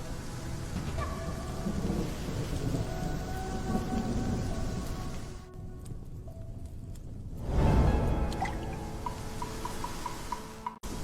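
A thunderstorm with steady rain and deep rumbling thunder, loud and continuous, briefly dropping away before a heavy thunder burst returns.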